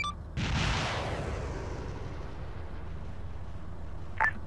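Artillery in a video game fires one loud, close boom that rolls out into a long, fading rumble, and a brief sharp click comes near the end.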